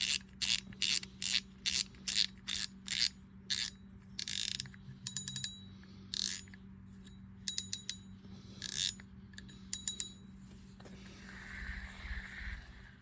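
Sharp ratcheting clicks from the drag knob of a Penn Fierce III 3000 spinning reel, a fast run of evenly spaced clicks followed by scattered irregular bursts, close and clear with no talk.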